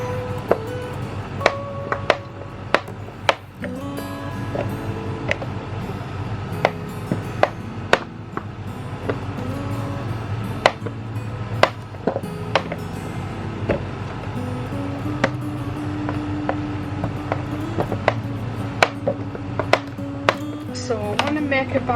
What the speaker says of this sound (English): I know that people love to see soap get chopped up, so that's why I'm chopping it into small.